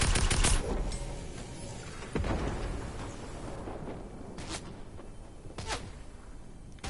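Gunfire in a John Wick video game: loud, dense bursts of shots right at the start, then sparser cracks and a few distinct single shots spread through a steady noisy background.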